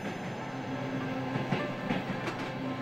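A train on the Trans-Mongolian Railway rumbles steadily from inside a carriage, with a constant roar and faint rhythmic clicks and knocks of old rolling stock on the rails.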